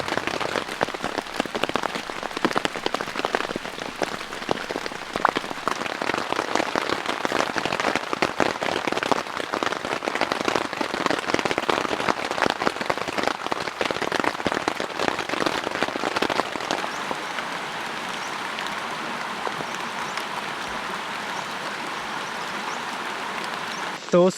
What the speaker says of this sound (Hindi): अभी तक बारिश रुकी नहीं है